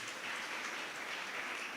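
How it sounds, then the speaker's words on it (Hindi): Faint, steady patter of clapping from a seated audience at a Jain monk's sermon in Rajasthan, a brief uniform wash of hand claps with no voices. "सही हो तो तालियां बजा दो ऐसे सम्मान में"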